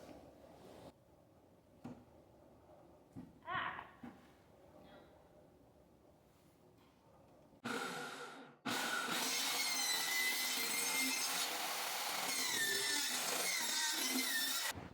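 Wooden boards for rollaway nesting boxes being cut with a handsaw, a loud, dense run of sawing that starts abruptly partway through and continues steadily to the end after quieter earlier handling noises.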